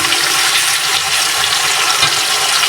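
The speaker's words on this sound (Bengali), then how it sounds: "পেঁয়াজ বাটা দিয়ে আমি 1 মিনিটের মতো ভেজে নেব।" Onion paste frying in a pan for a Bengali hilsa fish and pumpkin curry, a steady loud hiss of sizzling oil that runs unbroken throughout, with no talking.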